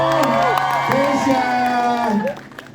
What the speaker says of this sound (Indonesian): Tepuk tangan untuk Kesha Alvaro